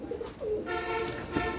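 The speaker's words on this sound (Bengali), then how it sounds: "এখানে দেখেন আপনারা অনেক সুন্দর সুন্দর কবুতর আছে।" Soft cooing of pigeons kept in an indoor loft room, low murmuring calls rising and overlapping at close range against a quiet background hum, no talking.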